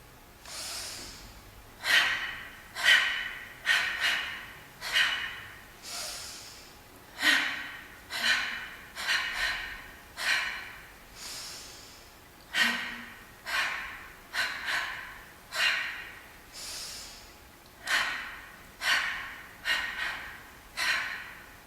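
Rhythmic, forceful breaths from dancers rehearsing a choreography for a flash mob, sharp audible exhales repeating steadily about once per second, close and loud, with no talking.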